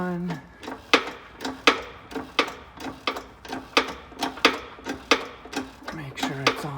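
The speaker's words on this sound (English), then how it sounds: "it's time to press the spindle onto the knuckle" Rear spindle of a Mazda RX-7 being pressed onto the suspension knuckle, giving a steady run of about a dozen sharp metallic clicks and knocks at a regular rhythm, close and moderately loud with faint background hum.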